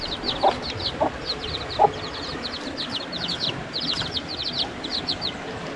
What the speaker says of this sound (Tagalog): ilipat ko na pala yung mga manok dito sa ginawa nating